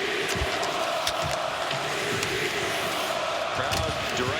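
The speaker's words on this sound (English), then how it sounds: "Crowd derisively chanting Igor's name" Dense, steady roar of an ice hockey playoff crowd in Edmonton, Dallas at Edmonton in Game 6, jeering the goalie Igor in a loud rhythmic chant that fills the arena without a break.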